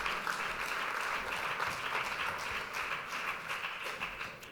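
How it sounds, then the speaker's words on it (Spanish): Steady applause from a conference audience, dense even clapping that fills the whole stretch at moderate loudness with no talk over it. "Así que fuerte el aplauso con él."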